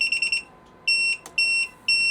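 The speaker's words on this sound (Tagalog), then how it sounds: "Beep." A RadioMaster TX16S MK3 Max radio transmitter gives sharp, high electronic beeps as the quadcopter arms: a fast stutter of short beeps, then three longer tones spaced about half a second apart, loud and close with no talk.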